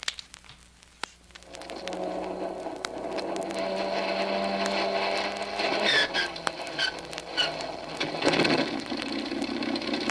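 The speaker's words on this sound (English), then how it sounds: "Here we go with engine number 1." An airplane engine, number one, starts in a radio drama effect: a few clicks, then a steady droning rumble that builds and holds, fairly loud and continuous.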